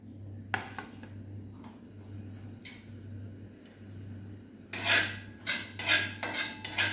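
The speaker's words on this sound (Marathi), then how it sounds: "आता आपण खसखस भाजून घेऊया" Dry rattling and clinking of poppy seeds roasting in a metal wok, with sharp scraping bursts toward the end over a steady low hum.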